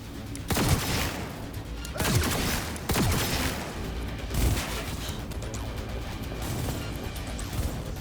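Gunfire during a Cyberpunk 2077 firefight, several sharp, loud blasts and bursts over a dense, noisy backdrop of continuous shooting, with no voices.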